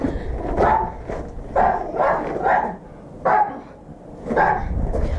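A puppy barks outdoors in a yard, a string of short, close, fairly loud barks and yips in bursts with brief pauses between them, with no talking.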